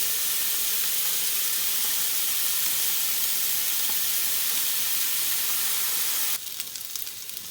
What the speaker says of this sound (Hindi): अब हम लोग इसकी साइड चेंज कर देंगे और इसको सारी साइड से गोल्डन होने तक पकाएंगे